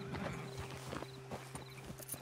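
Horses in Red Dead Redemption 2 clip-clop at a walk, a loose rhythm of hoof falls at moderate distance over a low steady hum.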